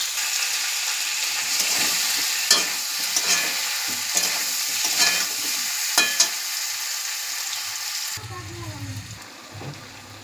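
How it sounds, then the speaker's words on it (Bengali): Water spinach (kalmi greens) sautéing in a pan gives a steady, bright sizzle with a spatula clinking and scraping every second or so, until the frying cuts off near the end and gives way to a low, muffled sound. "আমার শাকটা কষানো হয়ে গিয়েছে"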